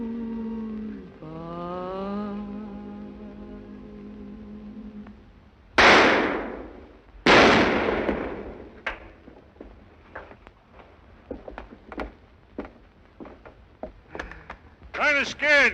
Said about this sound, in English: Well, I wasn't aiming at you. Just shooting up in the air.